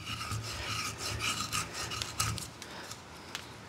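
A blade scrapes fine wood shavings for fire starting, with close, steady rasping strokes in quick rhythm and no voices.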